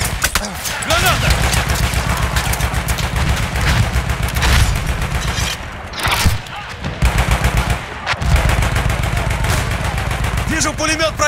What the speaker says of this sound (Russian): Вижу пулемет противника.